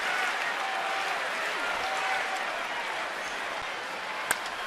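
A baseball stadium crowd at a Cubs–Nationals game applauds and cheers as a sustained, even wash of clapping and crowd noise. A single sharper clap pops out near the end.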